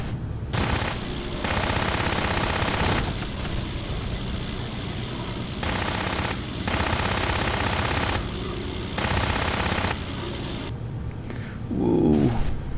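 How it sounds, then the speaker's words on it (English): Bf 109 fighter machine guns firing in a Cliffs of Dover air combat game over a steady aircraft engine drone, with long bursts of rapid fire repeating throughout and a short low rumble near the end. "Oh, he's firing. I think it's a 109."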